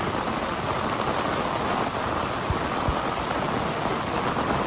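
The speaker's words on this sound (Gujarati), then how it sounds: "ફૂલ વરસાદ છે ભાઈ સુરતમાં અત્યારે" Heavy rain falls in Surat during a downpour that floods the street outside a textile shop, a dense, continuous hiss of drops hitting surfaces, loud and unbroken throughout.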